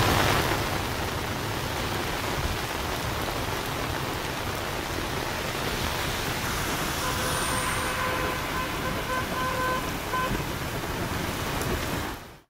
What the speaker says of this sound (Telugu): గంట నుంచి నాన్ స్టాప్ గా వర్షం కురుస్తోంది.